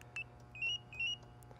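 A GENSSI motorcycle alarm chirps on unlock, giving a quick series of three or four short, high electronic beeps close by over a low steady hum.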